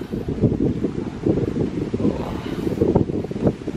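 Strong wind buffets the microphone in continuous gusty rumbles, loud and close, with no talking, at a hilltop resort hotel overlook in Binangonan, Rizal, Philippines.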